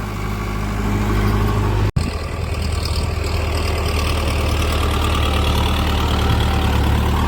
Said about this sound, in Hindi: ये देखो 3 MB प्लाऊ है और PP46i ट्रैक्टर है 4 व्हील ड्राइव।